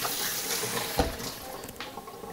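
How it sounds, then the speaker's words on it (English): Tap water runs steadily into a kitchen sink while buttery hands are rinsed under it, a continuous close wash with a brief splash near the middle. "I'm just going to wash my hands here because they're covered in butter"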